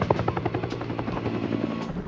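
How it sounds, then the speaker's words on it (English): Helicopter racing low over the ground, its rotor chop beating in a fast steady rhythm with a constant engine whine, loud and close throughout with no voices. "The helicopter raced 20 yards off the ground to avoid enemy radar."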